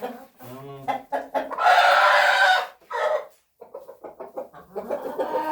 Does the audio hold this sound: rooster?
yes